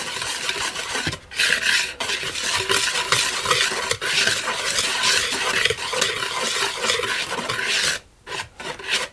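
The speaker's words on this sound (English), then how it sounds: "I'm going to add my flour into the bowl, and I'm just going to give that a good mix around" Flour is stirred around a mixing bowl for an apple crumb cake, making a steady, close scraping rustle that stops briefly twice.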